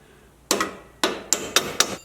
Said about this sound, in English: I'm just going to take a little hammer and tap up on that spacer.